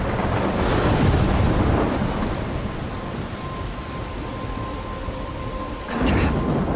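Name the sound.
thunderstorm with rain in the video game Life Is Strange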